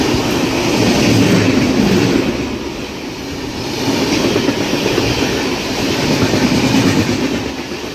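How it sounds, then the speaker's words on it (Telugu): A Chennai Egmore–CSMT superfast train overtakes near Puttur station, heard from aboard another train: a loud, steady rumble with rattling wagon clatter and clickety-clack that swells and eases across the whole stretch, with no voices. "Chennai Egmore CSMT super fast మనల్ని ఓవర్టేక్ వేసింది"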